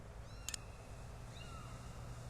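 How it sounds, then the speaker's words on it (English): Faint, thin kitten mews from the Sam and Max video game drift in and out over a low steady hum, with a brief chime-like blip early on. "You can actually hear them mewing in the background."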